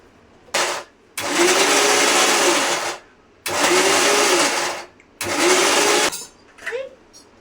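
A mixer grinder blending mango pulp until smooth whirs loudly in three bursts of a few seconds each, with short pauses between them.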